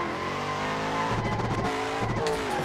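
A race car lapping a track in the Assetto Corsa racing game, with a loud, continuous engine drone rising and shifting in pitch as it accelerates and shifts gears, heard alone without talk.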